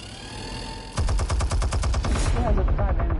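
Machine gun fire in a Batman video game: after a moment of background sound, a loud, rapid burst of automatic gunfire rattles steadily for over two seconds, with a voice briefly audible underneath.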